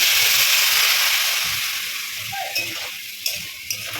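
Water splashes into a pan of half-cooked taro and rohu fish curry, setting off a loud broad sizzle that slowly fades, with a few soft stirring clicks near the end.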